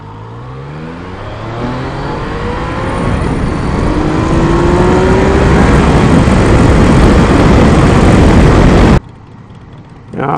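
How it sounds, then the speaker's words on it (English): A loud Harley-Davidson motorcycle engine roar builds steadily, rumbling and rising in pitch close by, then cuts off abruptly. "Oh, that's a cool Harley"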